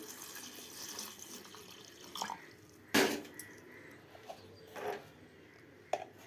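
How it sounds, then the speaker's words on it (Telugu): Water splashes and trickles into a bowl of chickpeas in short bursts, broken by a sharp clatter and a few faint drips in a quiet room. "ఇందులో వాటర్ పోసేసుకుందాం"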